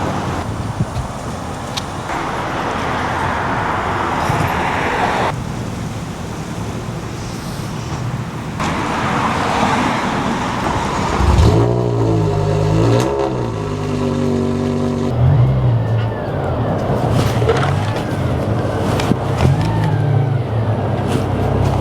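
A car drives off to be dropped at a shop, its engine loud and close, revving and shifting through gears, with a steady rumbling hum and tonal engine whine. No voices are heard.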